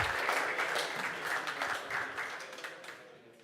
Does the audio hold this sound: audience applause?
yes